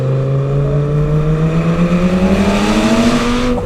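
Engine of a 2008 Lamborghini Gallardo Spider, heard close and loud as its pitch climbs steadily through the revs in one continuous pull.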